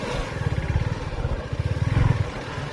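A Suzuki V-Strom 250 motorcycle pulling away, its engine putting out a steady low, pulsing thrum that rises slightly in intensity, heard close with no talk over it.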